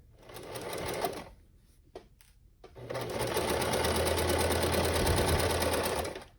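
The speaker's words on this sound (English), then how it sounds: "now I'm going to sew a 1/2 inch seam allowance all the way around the whole thing" Electric sewing machine stitching a half-inch seam around a pillow cover: a brief whirring run, a pause with a couple of clicks, then a longer steady loud hum of fast stitching.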